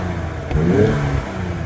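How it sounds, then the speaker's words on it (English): A turbocharged 2025 Ford Explorer ST fitted with an MBRP aftermarket exhaust revs up, the engine note swelling and climbing for about a second before settling into a steady drone, with no talking. "you can hear the turbo"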